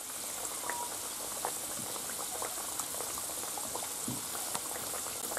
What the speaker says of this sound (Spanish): Ya se han frito las patatas